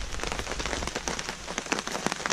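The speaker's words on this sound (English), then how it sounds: "it's really raining hard right now" Heavy rain pours onto a Vancouver Island campsite in a rainstorm, a dense, loud patter of countless drops striking surfaces, with sharper close splats scattered through the steady hiss.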